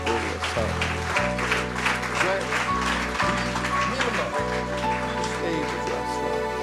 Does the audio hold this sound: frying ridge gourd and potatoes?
no